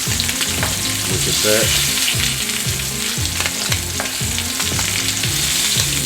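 Pork chops sizzle and fry steadily in a pan while being basted with butter, a dense, continuous crackle with rhythmic low scraping or stirring underneath; a brief voice speaks once over the cooking.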